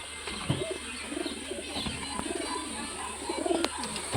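High-flying pigeons coo in a loft, soft low warbling calls repeating over a busy background with scattered knocks and faint movement, near and moderately loud.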